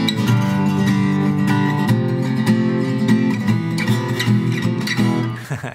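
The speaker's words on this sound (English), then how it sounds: "It's that typical Spanish sounding chord progression that sounds like this." A guitar strums a descending Spanish-style Andalusian cadence, rich sustained chords changing roughly every second, heard clearly on its own with no voices.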